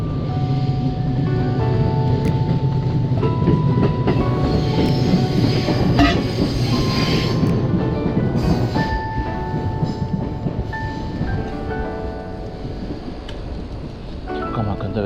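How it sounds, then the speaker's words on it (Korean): A train rumbles past loudly and close beside an alley in Japan, with a steady roar, rattling wheels and occasional squealing tones the whole time. "기차 지나가는 것만 봐도"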